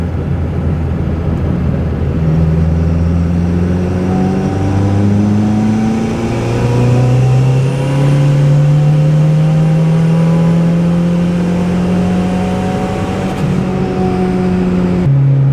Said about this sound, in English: I'm really hoping you guys can hear that spool up and the blow-off valve.